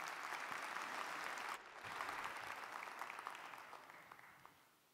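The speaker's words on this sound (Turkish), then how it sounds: "TÜBA Başkanı Profesör Doktor Sayın Muzaffer Şeker'i kürsüye davet ediyorum alkışlar eşliğinde" Steady applause from an audience at a formal science awards ceremony fills the hall, sustained and dense throughout, dipping briefly and then continuing before gradually fading toward the end.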